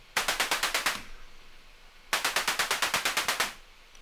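Techno hi-hats programmed in Ableton Live, two quick bursts of rapid, crisp, hissy ticks, each about ten hits in a tight even rhythm, separated by a brief near-silent pause.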